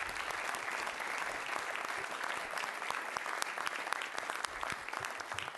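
Sustained applause fills a council chamber after a unanimous 7-0 vote, dense clapping from a room of people lasting several seconds at steady volume.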